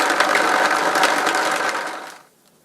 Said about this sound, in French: Et c'est parti, on va mixer pendant 2-3 minutes.